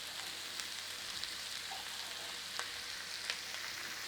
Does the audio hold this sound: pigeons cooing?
no